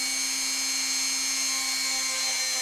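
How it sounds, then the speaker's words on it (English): A small rotary tool whirs steadily at high speed with a constant, even pitch and no pauses while lightly sanding and polishing a Celtic cross pendant. "right now I'm just lightly sanding or going across"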